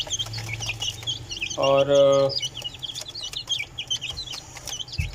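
Young chicks about 23 days old clucking and cheeping steadily while eating boiled rice, with a louder single fowl call in the middle and a brief word spoken over them.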